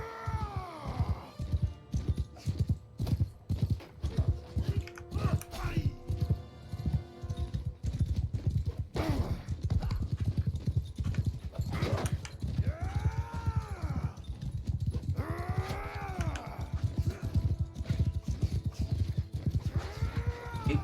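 Horse hooves clip-clop in a steady, continuous rhythm throughout, mixed with game music and other in-game sounds from the battle game Bannerlord, with no talk.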